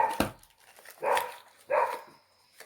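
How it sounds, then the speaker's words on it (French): Dogs give three separate barks indoors at moderate distance, each a short gruff burst spaced under a second apart, with quiet room noise between them. "vous devez entendre mes chiens"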